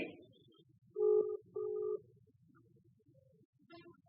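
A telephone call being connected: a couple of short electronic ringback tones, moderately loud and steady, followed by a faint line hiss with a brief click near the end.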